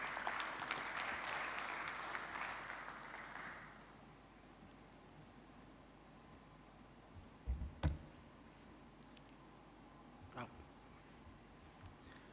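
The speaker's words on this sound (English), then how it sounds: "If I could have a big round of applause for Silas." Audience at an oil and gas congress applauding a presenter, a round of clapping that fades out after a few seconds, followed by quiet room tone with a few scattered knocks and clicks.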